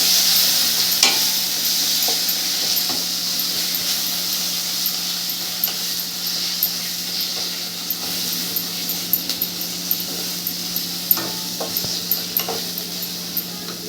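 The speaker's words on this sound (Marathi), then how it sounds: "अगदी बारीक गॅसवर हे मसाले मस्त तेल सुटूसर आपण भाजून घेऊ" Masala spices roast in oil over a low gas flame for a dhaba-style egg masala, with a continuous soft sizzle and regular spatula clicks and scrapes.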